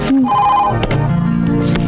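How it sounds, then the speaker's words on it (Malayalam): A telephone rings loudly and close by with a short electronic ringtone, with no talking. "ഓ റാണി ഫോൺ എടുക്ക"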